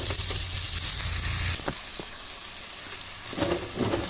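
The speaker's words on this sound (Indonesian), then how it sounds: "Tumis sampai layu dan harum, baru masukkan daun salam, serai, dan lengkuas" Spice paste sautéed in a pan sizzles loudly at first, then settles into a softer, steady frying hiss with a few stirring knocks.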